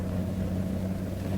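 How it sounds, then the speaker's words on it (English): A 2001 Allegro Bus diesel pusher with a Cat 330 engine at full throttle produces a steady, muffled low rumble heard from inside the well-insulated coach, constant throughout with no voices. "I'm going to give it full throttle"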